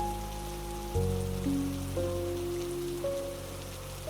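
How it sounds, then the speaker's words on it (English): Soft, steady hiss of light rain under quiet sustained musical tones that shift in pitch every second or so. "a rain that has softened to almost nothing"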